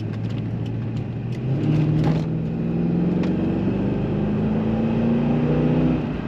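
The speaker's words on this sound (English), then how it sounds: "Very nice throttle response and acceleration, as you would expect from a Corvette." The engine of a 2004 Chevrolet Corvette convertible accelerates from inside the car, its steady drone rising in pitch as speed builds, heard clearly with no talk.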